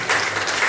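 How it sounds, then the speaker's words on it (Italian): Applause from an audience at an Italian book event: a dense, steady wash of clapping that runs unbroken through the brief moment. "Mi unisco anch'io a questo applauso"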